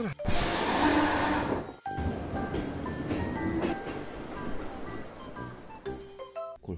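A train departing, rumbling and clattering along with a loud whooshing onset, steady heavy noise, then a brief squeal and clunks near the end.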